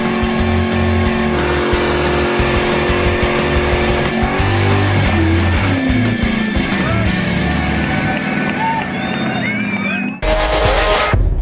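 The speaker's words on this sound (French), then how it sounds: "En drague de Mustang, comme dans n'importe quel événement de voiture de course, un show de boucan est toujours bien apprécié." A loud Mustang drag race car engine roars and revs up close, its pitch climbing through gears, with a crowd and announcer talking underneath at a Mustang drag racing event.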